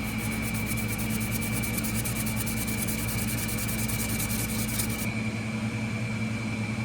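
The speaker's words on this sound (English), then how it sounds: "we're fitting to sand these down now" Old parts of a 1940s Hammer Brand Jack-O-Matic knife are sanded, making a continuous, even rubbing hiss up close that keeps a steady level, with the high scratchy texture dropping away near the end.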